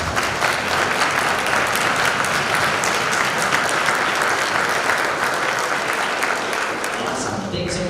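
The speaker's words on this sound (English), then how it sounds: "Everyone give them a big round of applause." A school audience bursts into sustained applause at a student band event, dense clapping from a crowd that continues evenly for several seconds before tapering slightly at the end.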